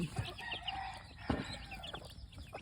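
Free-range gamefowl chickens, mixed yard fowl, cluck and call close by in a short burst of overlapping bird sounds, with a crow-like call among them.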